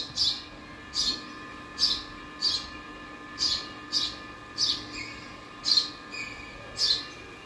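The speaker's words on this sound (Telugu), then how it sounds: "చూడండి పక్షుల అల్లరి బాగా అవుతుంది" Short high chirps repeat about once a second, fairly faint and clear, over a quiet background hum.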